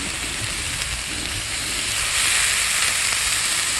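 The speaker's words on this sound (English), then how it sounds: "add a little bit of water for some steam" Water splashed onto a hot Blackstone griddle beside cooking chicken burgers sends up a steady hissing sizzle of steam that swells louder about halfway through, with no talking.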